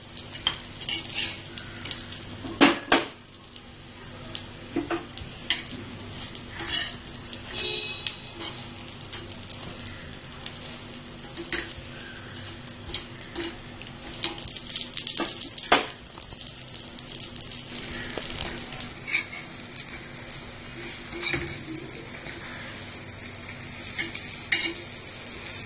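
Arvi and potato cutlets fry in a pan with a continuous close sizzle, punctuated by sharp clinks and scrapes of a utensil as they are flipped and stirred; no talk.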